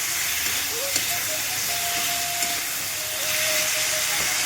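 Water poured into a hot pan of simmering potato curry gives a steady, close hiss of steam that holds evenly throughout, with a faint whistling tone running above it.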